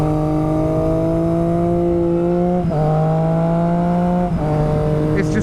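A motorcycle engine runs steadily while being ridden, a loud close drone with pitch that rises gradually and drops at two gear shifts, with no voice over it.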